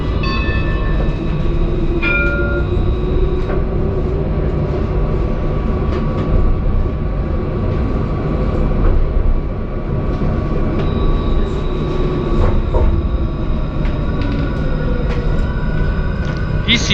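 Mulhouse tram on line L2 riding between Coteaux and Nouveau Bassin, a steady rumbling ride with faint wheel squeals and electric whine, heard from inside the car.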